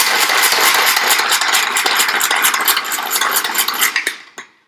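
A Tour de chef manual pull-cord chopper cutting a small garlic clove, giving a rapid, busy whirring and clattering of blades that runs for about four seconds before stopping abruptly, close up with no talking.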